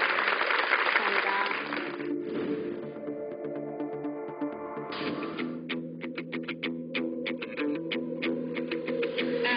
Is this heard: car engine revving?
no